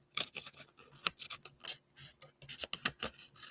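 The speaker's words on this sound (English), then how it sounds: "And we're just going to trim these off like so." Scissors snip and trim paper at a paper-crafting table, a quick irregular run of crisp close cuts and rustles, fairly quiet.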